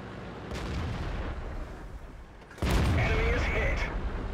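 A tank gun firing premium ammunition in World of Tanks, heavy booms under a steady rumble with a louder shot near the middle, while someone talks over it.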